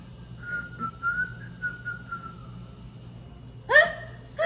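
A person whistles a short wavering tune in a screen golf room, then breaks off; a couple of sharp breathy laugh-like bursts follow near the end.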